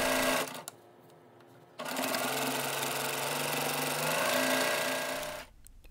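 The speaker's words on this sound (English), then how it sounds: "I'm stitching the top half, the bow unit, to the bottom half, the present unit, to complete the block." A domestic sewing machine stitches the top bow unit of a Christmas present quilt block to the bottom half, running in one long steady whirring burst between short pauses, close and loud.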